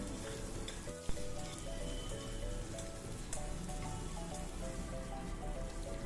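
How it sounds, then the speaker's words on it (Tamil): Steady, close sizzling from chopped onion frying in a pan, with a bright, crackly hiss throughout and a soft knock near the start. "ஒரு சின்ன பல்லாரி வெங்காயத்தை நறுக்கி வச்சுருக்கேன், அதையும் சேர்த்துக்கிறேன்."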